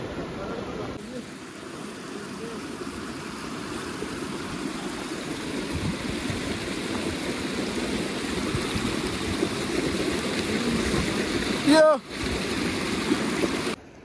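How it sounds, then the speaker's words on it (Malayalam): A clear, icy mountain stream flows through snowy winter terrain at Sonamarg, Kashmir, giving a steady, close broadband rush that fills the whole stretch, broken by a short abrupt sound near the end. "അരുവിയിലെ വെള്ളം എത്രമാത്രം തെളിഞ്ഞതാണല്ലേ"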